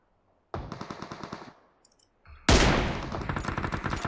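Automatic gunfire in PUBG Mobile rattles out in a rapid burst of about a second, pauses briefly with a few faint clicks, then erupts into a louder, denser volley that continues to the end.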